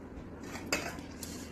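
A ladle scrapes and clinks against plates while serving rice for lunch, with soft scraping and a sharper metallic clink partway through, close and fairly quiet.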